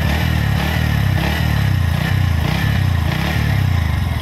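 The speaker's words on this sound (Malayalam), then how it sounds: "നമുക്ക് ജസ്റ്റ് ഒന്ന് ത്രോട്ടിൽ കൊടുത്തു നോക്കാം" A 2024 Bajaj Pulsar NS125 engine is revved with the throttle. It gives a steady, loud, close mid-range roar with pulsing rises through the whole stretch and no voices.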